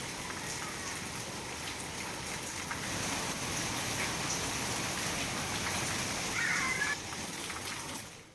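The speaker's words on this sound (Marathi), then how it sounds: "अहिल्यानगरमध्ये मुसळधार पावसाचं आगमन झालेलं आहे" Heavy monsoon rain in Ahilyanagar falls steadily and evenly, a dense, continuous hiss of drops on surfaces that swells slightly midway.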